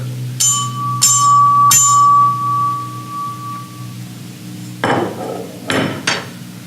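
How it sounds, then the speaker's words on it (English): An ice cream bell used as a handheld percussion instrument, struck three times in quick succession with a sustained ringing tone, followed by two loud rattling hits. "This is what they call an ice cream bell."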